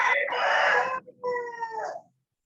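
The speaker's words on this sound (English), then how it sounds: "the rooster is celebrating with us" A rooster crows loudly and close by in two long strained phrases, the second rising then trailing off, heard alone and followed by silence.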